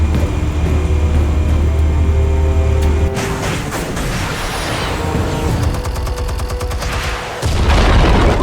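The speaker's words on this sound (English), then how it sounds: "Explosives armed. Fire when ready." Explosives detonating in the Batman: The Telltale Series video game: a heavy, continuous roar of booming blasts and crackling debris that shifts partway through and swells again at the end, loud and close with no talking.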